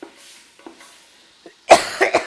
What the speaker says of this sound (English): You may find yourself coughing with the pepper.